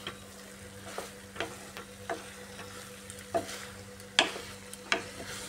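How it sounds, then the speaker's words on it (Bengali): Lentils, potato and pointed gourd being stirred together with spices in a frying pan: soft continuous sizzle under irregular spatula scrapes and clinks, close, with a couple of sharper knocks near the end, no talk. "আলু, পটল মিশিয়ে নিচ্ছি।"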